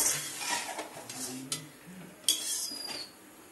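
Moong dal nearly cooked through is stirred and mashed in a pot, giving soft scraping and a few sharp clinks of a utensil against the metal rim, close and moderately quiet with no talking.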